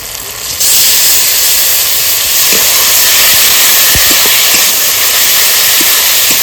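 Ginger-garlic paste and tomato paste sizzle hard in hot frying oil, a loud, steady broadband hiss that swells suddenly after a quiet start and holds with faint crackles.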